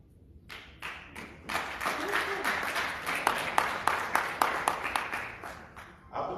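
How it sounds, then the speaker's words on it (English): Audience clapping at a diaspora political convention in the USA, starting sparse and swelling into steady, fairly loud applause from a large crowd with rhythmic peaks. "I have to clap for the guy who started the clapping."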